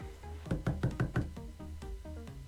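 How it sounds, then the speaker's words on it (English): A door knocked on in the video game Helltaker, a short series of five or six firm, close knocks in an even rhythm, followed by soft ambient game music, with no voices. "You knock on her door, unsure of what to expect."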